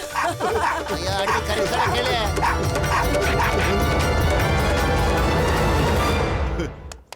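Animated cartoon dog bow-wows and yips in quick bursts over continuous background music and excited character voices, loud and close throughout a Motu Patlu chase scene.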